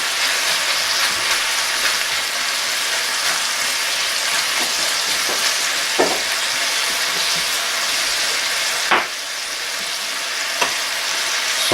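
Garlic and onions sizzling steadily in a hot pan during a beer braised lamb shank recipe, a close, even frying hiss with occasional stirring scrapes and clinks.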